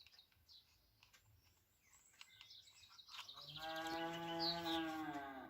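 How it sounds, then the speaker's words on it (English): A cow lets out one long, loud moo in the second half, following quieter background shuffling and a few faint tapping sounds. "I think cows are screaming for food."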